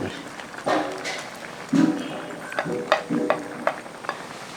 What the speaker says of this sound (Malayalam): അണ്ടിപ്പരിപ്പ് മുന്തിരിങ്ങയൊക്കെ ഇങ്ങനെ അങ്ങോട്ട് ഇട്ട് ഒന്ന് ഇളക്കി കൊടുക്കുക.